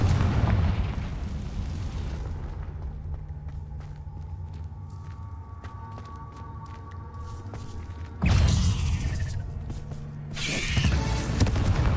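Magical Confringo blasts in the Hogwarts Legacy video game: a heavy rumbling burst at the start, then a low hum with light clicks, and two more sharp, loud explosive bursts near the end.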